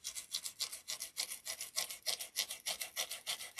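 Foil is rubbed by hand onto a bow holder in a quick, steady rhythm of about five scratchy, hissing strokes per second, close and alone.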